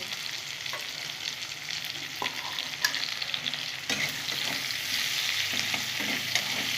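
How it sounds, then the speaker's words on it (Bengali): Onions frying in a pan for an aar fish curry make a steady, close sizzle with scattered clinks and scrapes of stirring throughout, and no voices. "লাল লাল করে আমি পেঁয়াজটা ভেজে নেবো বন্ধুরা।"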